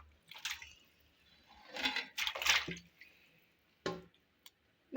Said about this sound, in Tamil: 2 கிலோ சிக்கனை நம்ம எடுத்து வச்சிருக்கோம். இதை வந்து நம்ம இந்த தண்ணியில போட்டுடலாம் கழுவுறதுக்கு